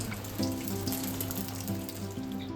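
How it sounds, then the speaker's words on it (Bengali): Fish frying in a home kitchen pan, a steady close sizzle of hot oil running throughout with no talk, over a low continuous hum. "আর এই যে এইদিকে আমার ফিশ ভাজা চলছে"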